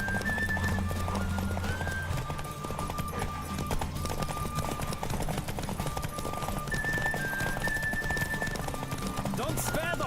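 Rhythmic hoofbeats of a galloping horse in the video game The Witcher 3 pound steadily beneath rushing air, with a voice speaking over the run.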